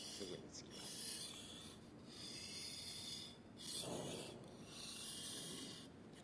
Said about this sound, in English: The longer your strokes, the more efficient your sharpening.